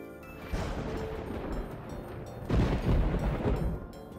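Lightning summon ability in H2O: Mako Magic, rumbling crashes of thunder and booming impacts, a first strike followed by a louder second blast, all over steady game background sound.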